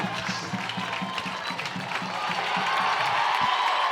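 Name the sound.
crowd erupting in cheers and applause at the race finish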